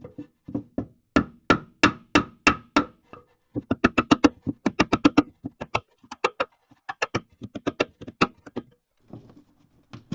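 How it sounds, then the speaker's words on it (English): Sharp hammer blows on a wood block during an engine swap on a Mk1 Renault Trafic 2.2 come in quick bursts, loud and close, with short pauses between series of strikes. "I found the block of wood and a hammer technique works well too"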